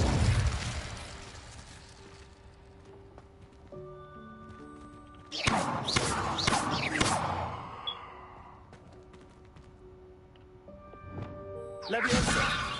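Incendio fire spell cast in the video game Hogwarts Legacy, heard as a low rumbling burst that swells into crackling whooshes for a couple of seconds, over soft synth tones and game ambience, with another whoosh rising at the end.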